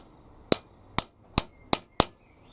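Five sharp metallic hammer taps on a centre punch, evenly spaced about half a second apart, close and clear against a quiet background.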